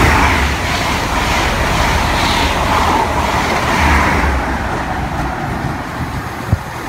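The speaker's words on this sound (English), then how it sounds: "As an express train about to pass through." An HST express train roars through Ealing Broadway station at speed, a loud, sustained rush of wheels and air that fades slightly toward the end.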